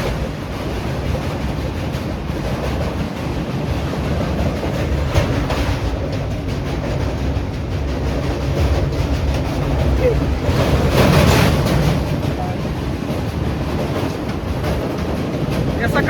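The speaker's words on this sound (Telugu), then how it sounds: "Railway bridge Godavari." A train rolls across the Godavari railway bridge with a steady, loud rumble and rhythmic wheel clatter that swells near the middle, broad and continuous throughout.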